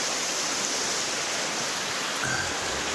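A river rushes beneath a bridge near a campsite along the trail to Niday Shelter in Virginia, a dense, steady roar of flowing water heard close and uninterrupted.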